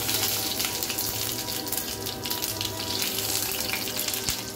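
Mustard seeds and curry leaves fry in hot oil for tomato onion chutney, giving a steady, close, dense sizzle that holds level throughout with faint crackles.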